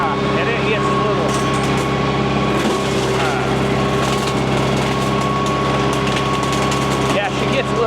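A Landhonor articulating brush cutter mower runs nonstop while cutting along a ditch, a loud, close, steady engine drone with a constant whine and slight fluctuations in load.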